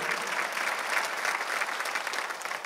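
Sustained applause from a church congregation, a dense steady wash of many hands clapping together without pause, moderately distant and even in loudness throughout.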